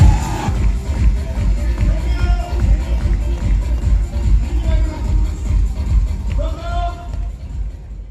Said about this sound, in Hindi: सबसे पहले मैं चाहता हूं कि आप लोगों के जोश, जज्बे, जुनून के लिए जोरदार तालियां होनी चाहिए